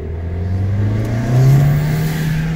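Manual-transmission VW GTI engine revs up close and steady, its pitch rising through the clip and peaking with a louder surge before settling into a sustained drone.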